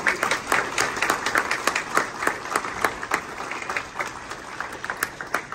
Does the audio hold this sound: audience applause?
yes